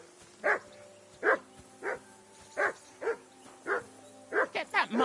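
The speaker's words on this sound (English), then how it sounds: "Get that mutt of yours to stop barking, will you?" A dog barks nearby in a steady series of about ten sharp, separate barks, the last few coming closer together.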